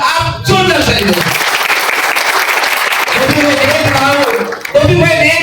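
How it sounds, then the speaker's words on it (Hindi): Loud, sustained applause from an audience at a college event, a dense wash of clapping lasting several seconds, with a voice speaking briefly before and after it. "इनके लिए भी एक बार आप जोरदार ताली दो."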